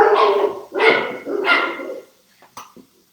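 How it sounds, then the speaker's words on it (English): Dogs bark at a knock on the door, three loud close barks in a row, then a few softer yips and whimpers trailing off into quiet. "The puppy dogs are letting us know that there is somebody who has the indecency to knock on the door"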